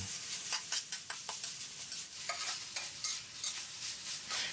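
Minced pork is dry stir-fried with southern Thai curry paste and no added water. A spatula scrapes and tosses in quick, uneven strokes over a soft, close sizzle, with no voices.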